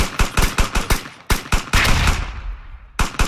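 Rapid bursts of gunfire in a squad-based video game, sharp repeated shots in clusters with a short pause and a longer rattling stretch, loud and close.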